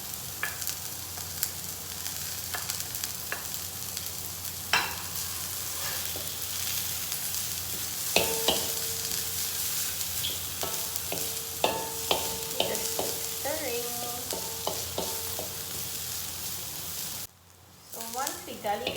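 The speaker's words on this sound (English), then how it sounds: "So now I add in the garlic, ginger, and the chili and curry leaves." Browned onions sizzle and fry in a pan as garlic, ginger, chili and curry leaves are stirred in, a steady crackling hiss broken by clinks of a utensil, with a brief drop near the end.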